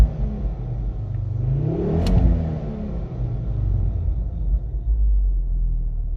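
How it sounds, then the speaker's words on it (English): A 2009 Ford Focus ST-2 with a 2.5 engine cranks and fires, then its engine rumbles up into a rising rev before settling to a deep, steady idle, loud and close. "We'll start the car up, so foot on the clutch,"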